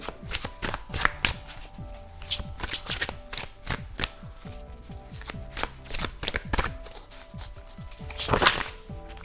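Tarot cards shuffled by hand, close and crisp, in repeated quick riffles and slaps with brief pauses between, and no talk.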